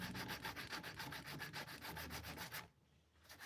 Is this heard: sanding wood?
yes